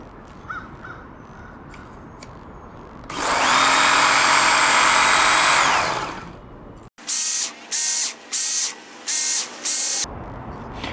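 Work Sharp Ken Onion belt sharpener grinding a Spyderco Manix 2 XL S30V stainless steel knife at a 17-degree angle, one long loud whirring pass followed by five short rhythmic bursts.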